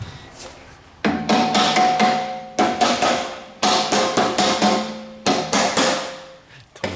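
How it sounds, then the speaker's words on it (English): Heavy hammer blows on metal during a Renault Clio V6 engine overhaul, struck in quick ringing clusters of several hits with short pauses between, loud and close. "it's time for the hammer"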